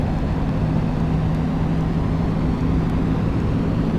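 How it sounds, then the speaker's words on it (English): A Boeing 777-200ER landing in Flight Simulator X produces a steady, loud, rumbling jet engine roar with a constant low hum and broadband noise and no breaks. "We are going to land this big aircraft."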